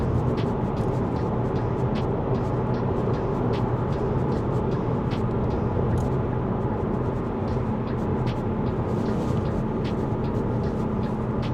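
Engine of a 2011 Volkswagen Golf running while driving at around 3000 rpm, a steady continuous drone with road and cabin noise, constant in level throughout with no talking.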